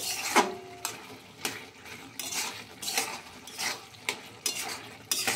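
Spoon scraping and stirring watermelon rind curry in a pan, with repeated rhythmic strokes roughly every half second, close up, plus a faint sizzle beneath.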